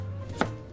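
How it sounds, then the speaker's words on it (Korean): A knife slices through radish on a cutting board in a restaurant kitchen making pickled chicken radish by hand; a single sharp, close chop rings out over a steady low hum, with no talk. "지금 이거 무 자르시는 거 보니까 이거 혹시 치킨무 만드시는 거예요?"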